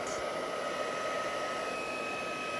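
A heat tool blows steadily over colouring on a foil card, a constant close airy roar that holds evenly for the whole stretch with no talk.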